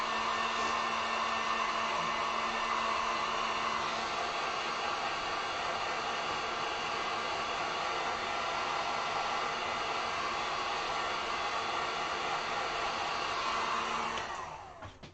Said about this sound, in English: This side's looking a little dry, but I can see some wet spots, so I'm going to grab the heat gun